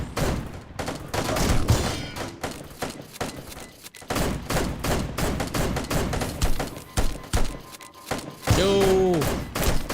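Gunfire in a shooter video game: dense bursts of rapid shots and impacts run almost continuously for ten seconds, loud and close, with brief lulls and a sharp sweeping effect near the end.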